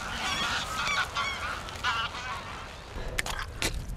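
Geese honk repeatedly in a noisy chorus of overlapping calls at moderate distance, followed by a few sharper, louder honks near the end, with no speech.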